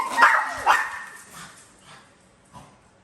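A puppy playing with a toy gives a couple of high yips and whines up close, followed by softer shuffling and faint play noises.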